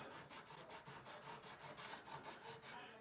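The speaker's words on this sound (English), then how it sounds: "I am lightly, and I mean lightly, sanding the super glue and ebony powder" Light back-and-forth strokes of 220-grit sandpaper on a block, rubbing super glue and ebony powder off during a refret of a 2001 Seagull Artist acoustic guitar; a steady, close, rhythmic scratching with no talking.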